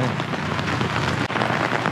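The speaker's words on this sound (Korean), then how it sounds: "갑자기 이렇게 비가 오네" Sudden heavy rain pours down on a street in Japan's Den Den Town area, a dense, loud, continuous hiss of drops hitting surfaces with no pause and no voices.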